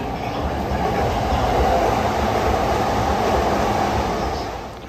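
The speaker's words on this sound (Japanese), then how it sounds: "肝心なところが通過電車で書き消されてしまった" A train passing through Shin-Okubo station on the Yamanote Line, a loud, steady rush of wheels and rail noise close by that fades slightly at the end.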